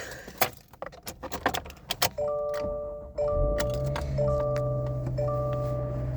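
Keys jangle and click in the ignition of a 2025 Subaru Legacy, then a repeating electronic chime pattern sounds as the engine starts with a low steady hum underneath.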